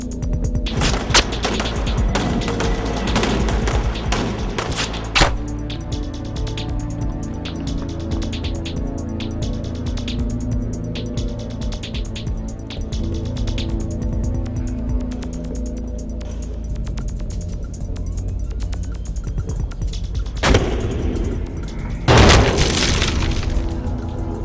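Loud, dense crackling bursts of gunfire in an action thriller movie fill the scene continuously, with a few sharper cracks standing out near the end.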